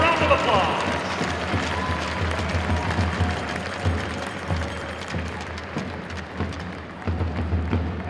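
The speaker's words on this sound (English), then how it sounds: "Let's give them a big round of applause" Arena crowd applauding the Union College Dutchwomen hockey team at a Mayor's Cup game, a steady dense wash of clapping and crowd noise that carries on throughout with little change.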